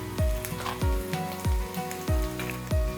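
Deep-fried mushrooms hit a hot pan with salt for mushroom salt and pepper, each toss giving a sharp thump and a burst of sizzle, repeating about every 0.6 seconds, close and loud.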